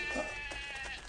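Sheep and goats bleating as a sound effect, several wavering bleats in quick succession, close and fairly loud, with no voices.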